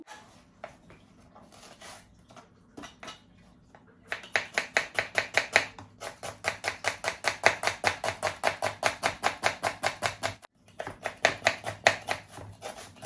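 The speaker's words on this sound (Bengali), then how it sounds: "আর এখন আমি পেঁয়াজ গুলা কাটিলাম" A knife chops onions on a cutting board in a home kitchen, starting with a few scattered cuts and then a long run of quick, steady, close rhythmic chops with one brief pause.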